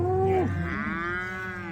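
Cattle mooing while cows are sorted on a farm on calf sale day, one long loud close moo that bends in pitch, with another bawl overlapping.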